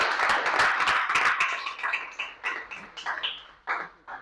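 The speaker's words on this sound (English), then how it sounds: "Let's welcome her with a resounding applause." An audience at a critical care medicine society meeting claps to welcome a speaker, a brief burst of applause that thins into scattered, fading claps.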